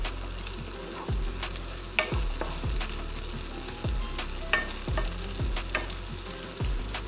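Chopped scallions sizzle steadily in hot garlic-infused oil for garlic fried rice (sinangag), with a spatula scraping and stirring the pan in a regular rhythm every half second or so, close and continuous.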